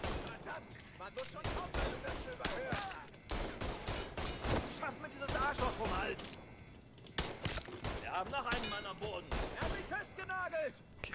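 Rapid bursts of gunfire crack repeatedly in Mafia 3 Definitive Edition, shots clustered in volleys with voices talking and exclaiming underneath.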